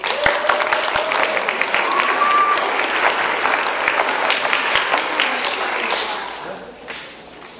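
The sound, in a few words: applause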